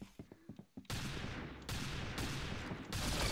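Hand cannon gunfire in the video game Arsenal, dense loud bursts of shots arriving in quick overlapping volleys after a brief quieter stretch of scattered sounds.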